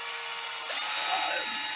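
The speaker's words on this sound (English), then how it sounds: "we can start drilling now." Power drill whirring steadily during boot repair, a continuous high-pitched motor whine that grows louder partway through and holds close and alone.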